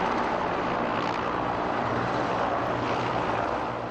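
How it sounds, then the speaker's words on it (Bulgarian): A Mi-17 military helicopter flies low during a military parade rehearsal, giving a loud, continuous broadband engine and rotor roar that holds steady throughout. "Днес в подготовката се включи хеликоптер Ми-17, част от военно-въздушните сили на републиката."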